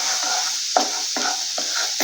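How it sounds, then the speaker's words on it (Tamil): Wheat flour sizzling in ghee while being stirred for wheat halwa, with a soft continuous fry under several distinct scraping strokes of the spoon. "இப்போ கோதுமை மாவை அப்படியே இந்த நெய்யில் சேர்த்துக்கோங்க."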